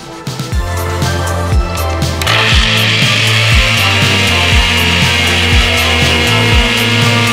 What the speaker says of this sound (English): I had to use a wood sander